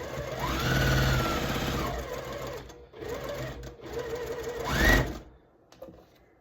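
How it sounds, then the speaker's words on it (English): A sewing machine stitches quilt block pieces together, running in steady rapid-stitch bursts with brief pauses and speed changes, close and clear with no talking. "now we're going to sew up these 4"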